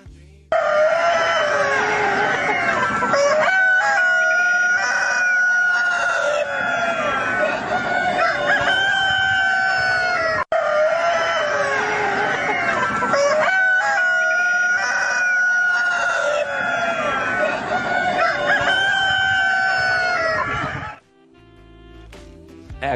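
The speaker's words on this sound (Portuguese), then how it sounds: "Galo cantou às 3 da madrugada." A rooster crows repeatedly, loud and close, with drawn-out cock-a-doodle-doo calls running through most of the recording before fading to a quieter tail.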